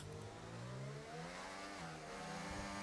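An F1 car engine in the video game F1 24 revs and shifts through rising and falling pitches, a sustained electronic-sounding motor drone with no talking.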